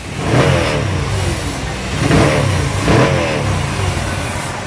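A TVS Apache RTR motorcycle engine runs at low rpm nearby, a steady rumbling idle with a few gentle swells in revs.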